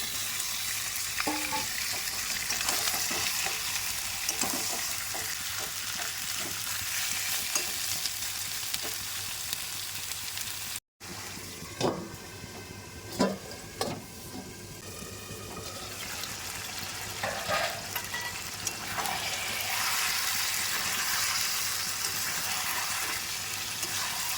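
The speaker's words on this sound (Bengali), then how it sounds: "সব কিছু কষানো হয়ে গেছে এবার দিয়ে দেবো চিকেন" Chicken goes into a pan of well-sautéed spices and green chillies for a home picnic meal, raising a steady, loud sizzle with scattered clanks and scrapes of a stirring spoon throughout, briefly cut off once midway.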